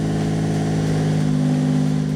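A turbocharged Ford 300 inline six revs on a dyno, a loud steady droning engine note with a strong low hum, held close and continuous without talk.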